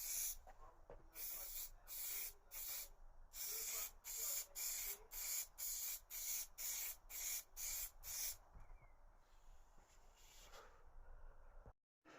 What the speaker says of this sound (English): so we're going to spray the top section there first